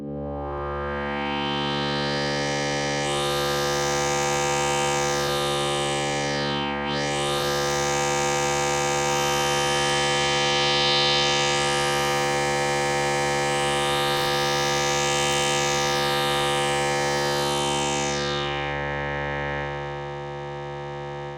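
Synthesizer in Native Instruments Reaktor 6 with filter resonance cranked high, a loud sustained buzzy drone whose resonant peak sweeps up and down in whistling arcs for about twenty seconds, with no voices.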